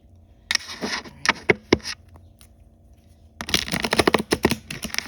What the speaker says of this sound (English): Couple more shuffles, and you could tell me if it resonates or not.